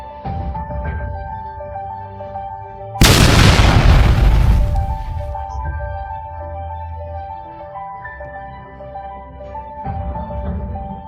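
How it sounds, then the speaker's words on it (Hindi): A single loud, deep explosion sound effect booms suddenly over background music, its rumble decaying over a couple of seconds before the music carries on alone. "जिसमें बहुत जोरदार धमाका हुआ।"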